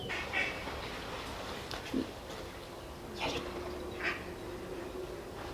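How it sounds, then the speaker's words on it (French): Occasional short duck calls and squawks over a constant background hiss, a few scattered agitated cries from ducks fighting rather than steady quacking. "Il y a les canards qui se battent pour une femelle, les gars."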